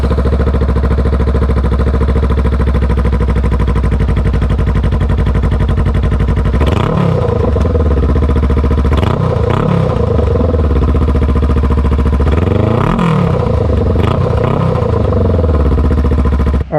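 A Honda Rebel 500 fitted with a cheap aftermarket exhaust idles with a loud, steady mid-pitched rumble, then is revved hard three times, each blip climbing sharply and dropping back to idle.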